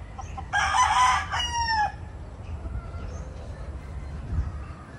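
A long-tail, white-legged sweater gamefowl broodstag crows once loudly and close, followed by fading tail notes over quiet farm background.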